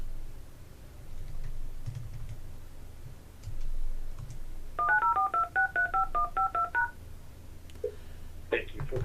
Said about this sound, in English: I'm going to call one of the call center groups from another phone.